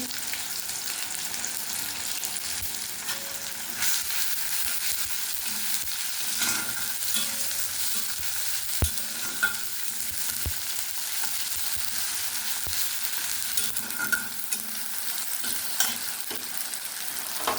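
Ginger paste frying in a pan for pabda fish curry, a steady close sizzle with occasional stirring scrapes and small clicks throughout, no voices over it.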